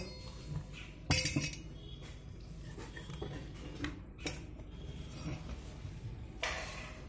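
A bowl is picked up and handled while bael sherbet is made in a home kitchen, giving a sharp clink of dishware early on, then softer knocks and a brighter rattle near the end over quiet room noise.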